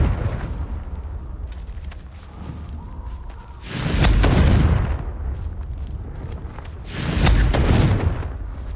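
Two heavy, booming blasts of the Confringo fire spell in Hogwarts Legacy burst out loud and close, each a few seconds apart, rising over a low rumbling game backdrop.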